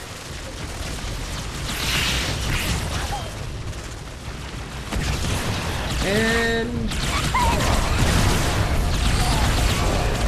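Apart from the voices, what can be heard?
explosions in Halo video game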